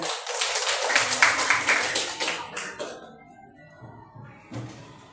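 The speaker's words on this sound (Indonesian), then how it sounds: "Beri tepuk tangan untuk seluruh kelompok." Students in a classroom clap for a presenting group, a dense burst of hand claps over the first few seconds that thins out and fades, with some coughs and murmuring voices afterward.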